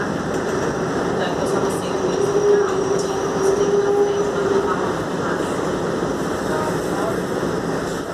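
A SuperVia commuter train at a Rio de Janeiro station, a loud steady rumble of rail noise with a faint squeal of wheels, while a recorded announcement voice speaks over it.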